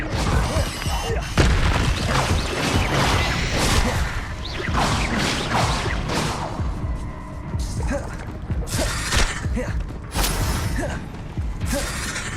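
A Depulso knockback spell cast in Hogwarts Legacy, a blast followed by clattering, creaking and crashing debris, with mechanical rattles and scattered impacts continuing for several seconds.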